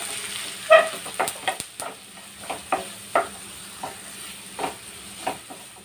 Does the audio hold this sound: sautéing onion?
yes